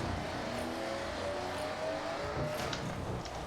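Dodge Ram TRX truck in the video game Forza Horizon, its engine droning at steady revs with a rumbling roar and gear changes, loud and continuous with no talk.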